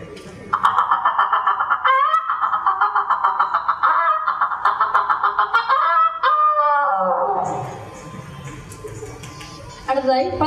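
A girl imitates a hen that has just laid an egg in a school mimicry act, with a long string of rapid, loud, close clucks, then a drawn-out cackle that fades before a short burst returns.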